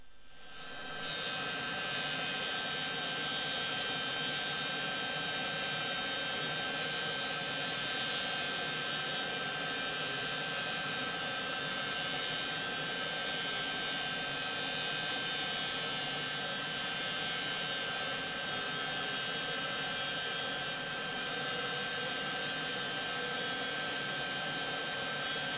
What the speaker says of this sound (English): I put them through the drum sander